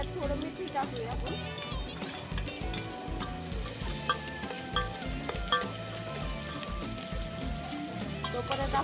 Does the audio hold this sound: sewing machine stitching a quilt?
no